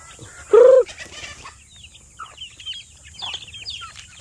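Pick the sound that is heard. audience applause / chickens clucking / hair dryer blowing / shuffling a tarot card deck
chickens clucking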